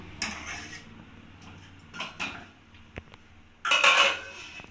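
Green peas in a kadai are stirred with a spoon, giving a few scattered scraping clinks, then a lid is set on with a louder metallic clatter near the end; no talking.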